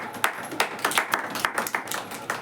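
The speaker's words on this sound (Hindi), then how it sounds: "ये ताली बजाएंगे।" Members of a church congregation clap their hands, a fairly even run of a dozen or so crisp claps at a brisk, slightly uneven rhythm, moderately close with a roomy tone.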